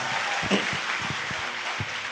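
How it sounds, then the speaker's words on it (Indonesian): Applause from an audience at a TIENS network-marketing event, a steady wash of clapping held at an even level throughout, close and fairly loud with no voice over it. "tepuk tangan buat beliau ya, Rizky Kanata."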